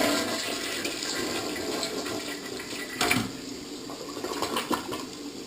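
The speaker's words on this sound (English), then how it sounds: "So let's see what the half flush does now." Half flush of a Mansfield model 3386 toilet: a continuous rush of draining and refilling water with a sharp gurgling surge partway through, heard close and alone.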